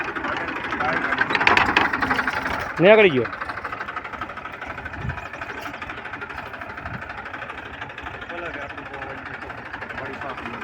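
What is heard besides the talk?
tractor engine running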